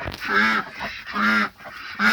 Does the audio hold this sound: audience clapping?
no